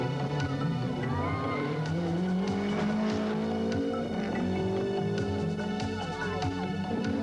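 Works rally cars from the 1988 Safari Rally Kenya, four-wheel-drive and rear-wheel-drive Nissan among them, power through mud holes, engines droning loudly and continuously with rising and falling revs under a faint voice.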